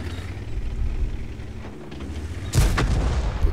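A tank cannon fires in World of Tanks, a German VK 28.01 light tank putting high-explosive shells into an enemy tank and setting it on fire; a sharp, loud boom strikes partway through over steady engine and battle rumble.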